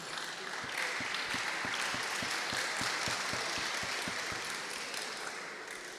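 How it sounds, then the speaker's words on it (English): Audience applause at a national public speaking competition semifinal, a steady dense wash of many hands clapping that holds for several seconds with no voices over it. "you ladies and gentlemen deserve a big round of applause for your delivery today"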